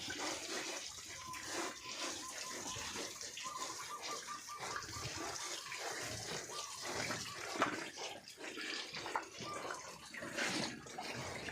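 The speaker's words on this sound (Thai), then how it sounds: "น้ำก็กำลังไหลแรงนะคะ" Strong water stream from a hose pours over a month-old piglet during a bath, a steady broadband gush of running water lasting throughout with a few splashy surges.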